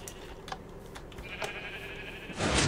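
Minecraft sheep bleating in the game, a few short bleats spaced over a soft background, ending in a louder burst of noise.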